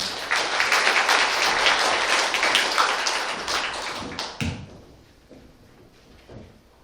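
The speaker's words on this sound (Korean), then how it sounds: "여러분 큰 박수 부탁드립니다" An audience at a science forum claps for a speaker coming to the stage, a dense, loud round that fades after about four seconds, leaving a few scattered claps and quiet room noise.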